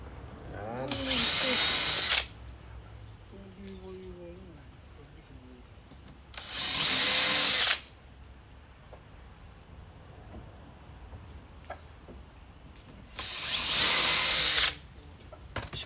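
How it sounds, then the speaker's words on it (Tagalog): Three bursts of a power drill driving screws into decking board, each about a second and a half long and spaced several seconds apart, loud and close, with low talk and light handling noise in the gaps. "Screwan na natin to mga idol para hindi na siya gagalaw, baka gumalaw ba."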